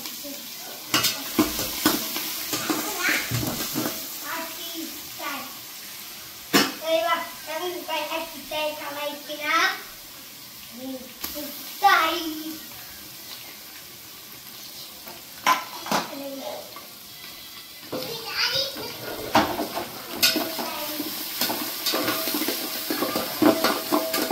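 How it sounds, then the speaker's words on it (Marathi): Ground masala paste sautés in a pan with repeated scraping stirs and a steady sizzle, while voices talk over the cooking throughout. "मग काढलेले वाटण सगळे परतून घेणार आहे."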